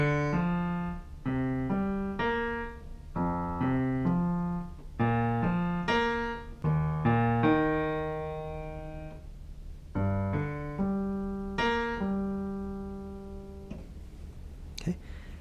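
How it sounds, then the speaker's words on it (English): The left-hand piano part of a Tamil song plays slowly and alone, with steady repeating chords and bass notes sounding clearly one after another, each left to ring. "let me just play the left hand one more time before I demonstrate the right and left hand together."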